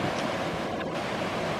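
Rushing water of the River Dee pouring over a small weir between Dent and Sedbergh, a steady broadband outdoor roar with no voices.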